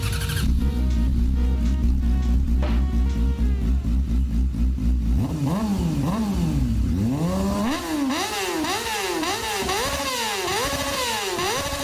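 A motorcycle engine drones steadily at first, then revs up and down repeatedly in sharp rising and falling bursts, loud and close, with no voices.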